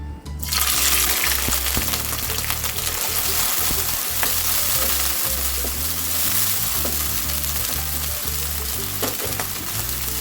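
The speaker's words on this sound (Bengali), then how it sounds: "প্রথমে মাছগুলোকে একটু ভেজে নিব" Small shrimp fry in a pan and hiss loudly and continuously from the first moment, with bubbling, spitting oil and a few faint stirring knocks, close up.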